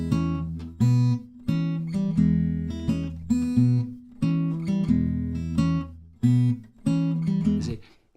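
Blues guitar lick played slowly on a slide guitar with alternating bass strings, plucked notes in a rhythmic, repeating pattern, clear and close with no talking.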